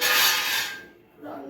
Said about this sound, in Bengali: তো মূলা শাকগুলো আমি একটু কেটে নেব